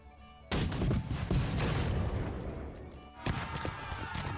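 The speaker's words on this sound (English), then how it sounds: "And let's open up with our artillery." Artillery barrage in a Napoleonic-era strategy battle game, loud booming volleys beginning abruptly, sustained rumbling fire, then a second burst of cannon shots near the end.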